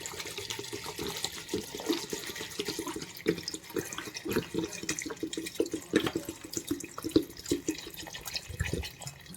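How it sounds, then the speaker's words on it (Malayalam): A litre of plain water is poured over two kilos of grapes in a pot while homemade grape wine is made, giving soft splashing and trickling with scattered drips, fairly quiet and close. "ഇതിൽ ഞാൻ ഒരു ലിറ്റർ വെള്ളം പച്ചവെള്ളം ഒഴിക്കുകയാണ്"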